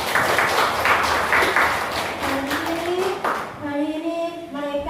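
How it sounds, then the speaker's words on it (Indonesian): Students in a classroom clap for their classmates for about three seconds, a fairly loud patter that fades out, followed by a voice speaking alone. "kasih tepuk tangan buat mereka"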